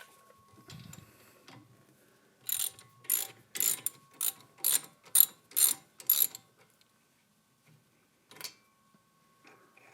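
Ratcheting wrench loosening a caliper bolt during brake pad replacement on a 2020 Toyota Corolla hatchback, heard as a burst of about eight rapid clicking strokes, close and fairly loud, with no talk.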